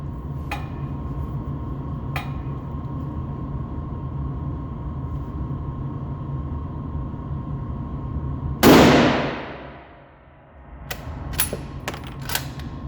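A single loud, close rifle shot from a classic 30-06 rifle fired outdoors, ringing out and decaying over a couple of seconds, followed by a few faint clicks and clanks of handling.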